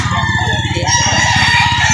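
Roosters and chickens at a fowl market in Lipa, Batangas, a dense close chorus of crowing and clucking with busy background noise, no clear pauses.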